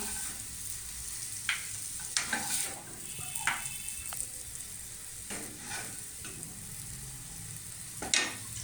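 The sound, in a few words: scraping cooked stuffing from pan into a bowl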